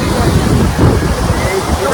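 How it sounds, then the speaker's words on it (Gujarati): Sea waves roll in at Dwarka in rainy weather: a loud, close, continuous surf roar with heavy wind buffeting the microphone. "જો ખાલી મોજા કેવા આવો."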